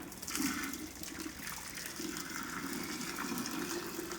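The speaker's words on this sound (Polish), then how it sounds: "Odcedzamy ziemniaki." Boiled new potatoes are drained, the cooking water pouring out steadily in a continuous splashing gush close by, with no talking.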